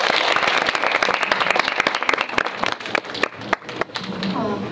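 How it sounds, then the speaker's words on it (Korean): An audience at an indie film screening and talk welcomes the directors and actors with a burst of dense, sharp hand claps that thins into scattered, separate claps before fading out. "박수로 환영해주세요"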